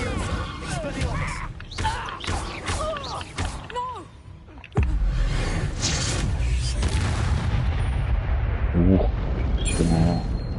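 Spells including Incendio and Expelliarmus cast in the video game Hogwarts Legacy: voices call out amid scattered impacts, then a heavy boom hits midway and gives way to a sustained, roaring rush.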